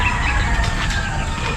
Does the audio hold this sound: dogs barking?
no